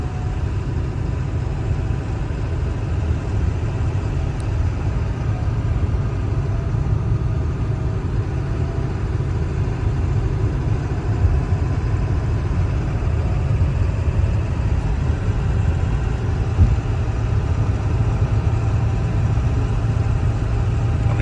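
A 2001 Ford F350 with a 7.3 diesel engine driving on a rough logging road, a steady loud low engine drone with road rumble, continuous and even from inside the cab.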